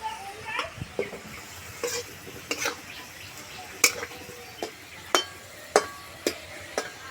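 Semolina dry frying in a pan, stirred with a spoon in a steady run of sharp scrapes and taps against the metal, with a faint sizzle beneath and no voices.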